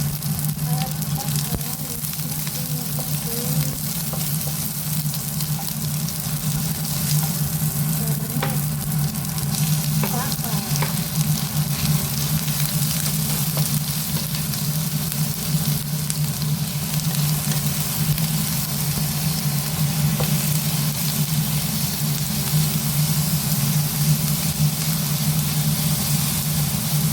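Onions sizzle steadily in a hot pan for a Filipino vegetable dish, with a constant loud frying hiss and scraping stirs throughout, no one talking.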